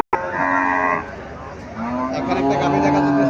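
A cow moos loudly and close by at a rural cattle market selling bony cows, two long lowing calls with a brief pause between them, market murmur underneath.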